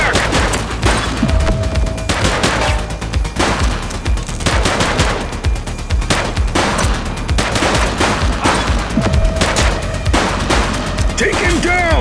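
Heavy gunfire in a police shootout in a video game: dense, continuous automatic fire and overlapping shots, loud and close, with brief higher tones and clatter mixed in.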